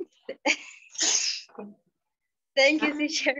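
A single sharp sneeze in an online class session, followed after a pause by a child's brief spoken reply.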